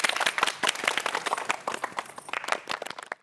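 A small audience claps in quick, uneven bursts for a few seconds, fairly close and lively, with faint voices mixed in.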